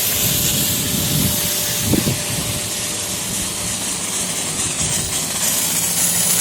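Compressed air blowing water out of an inground sprinkler system while winterizing it, a loud continuous rushing hiss with a brief gurgling spurt early on.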